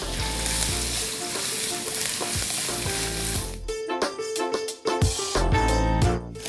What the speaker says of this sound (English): You want to fry off that ginger, get it nice and fragrant.